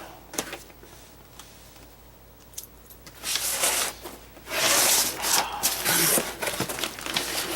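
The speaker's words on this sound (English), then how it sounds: "Since I don't want to tear the box, I'm just going to cut the tape." Tape being cut on a large Lego Star Wars Death Star cardboard box, starting with faint scratches and light rustling, then growing into louder, close scraping and slicing strokes in irregular bursts.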